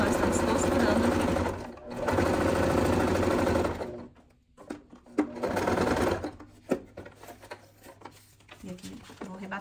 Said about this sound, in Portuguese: no seletor vou colocar no tecido grosso, porque agora são mais camadas, né, que nós estamos costurando aqui